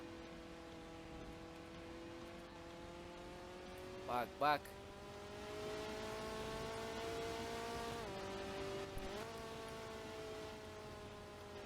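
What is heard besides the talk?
Ferrari car engine accelerating in video game Driving Empire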